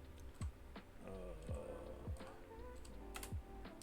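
Rapid clicking keystrokes from a computer keyboard set at an awkward angle, typed steadily at close range with a few heavier thumps, during a Lorcana card-game session with no talk over it.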